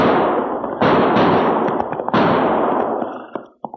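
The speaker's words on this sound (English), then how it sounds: "Not only did I hear those gunshots, Cherokee, but now I can see where they came" Loud, echoing gunshots sound in quick succession, each with a sharp onset and long ringing decay, followed by a few smaller cracks as it fades.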